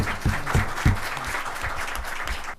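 Crowd applause at a global CSR conference greeting a keynote speaker, continuous clapping with a few deep thumps early on, held for a couple of seconds before cutting off abruptly.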